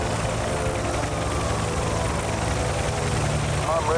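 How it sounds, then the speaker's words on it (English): A helicopter in a Batman video game moves slowly, its rotor and engine making a steady, dense drone throughout, with a brief electronic chirp near the end. "slowly moving helicopter"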